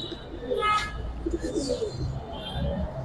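A pair of silver pangkhi pigeons give soft, low coos that come and go over a steady background hiss.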